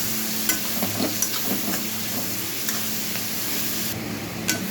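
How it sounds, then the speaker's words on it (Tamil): Garlic, onions and coriander being stirred as they fry in a pan, with a steady sizzle and sporadic scraping strokes throughout. "ஆட் பண்ணிவிட்டு இதை நல்லா கிளறி விட்டுடலாம்."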